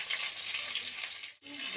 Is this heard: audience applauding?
no